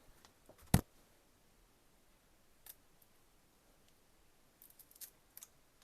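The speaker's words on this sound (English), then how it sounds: "So let me just get my scissors" Quiet room with a sharp scissor snip into a plant near the start, followed by a few fainter clicks and small cutting sounds scattered later.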